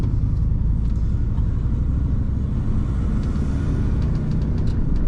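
A van drives past fast on a road, a loud, close, continuous engine rumble and road roar that fills the whole moment without any talk.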